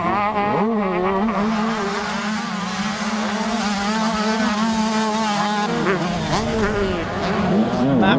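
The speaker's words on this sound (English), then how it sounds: "It's still a three-way fight because Shane Holmes is still right there on the number 5 machine" Several 125cc motocross bikes race past, their two-stroke engines whining and revving up and down in overlapping, loud rising and falling pitches during a close battle for position, with a commentator's voice faint underneath.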